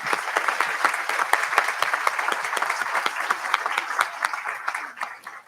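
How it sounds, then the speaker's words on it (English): Steady, dense applause from an audience at a school graduation ceremony honouring trustees, loud and sustained for several seconds before starting to thin out at the end. "All trustees who are with us today, let's give them a round of applause."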